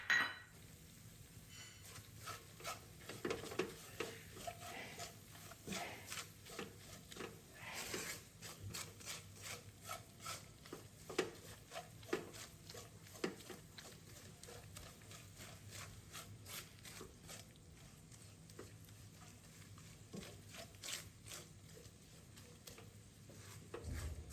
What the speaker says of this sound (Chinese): 辣椒糊炒至出油後，即可調味。